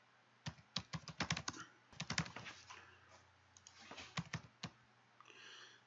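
Bursts of rapid clicking keystrokes on a computer keyboard as a command is typed in PowerShell, close and crisp, with short pauses between runs of typing.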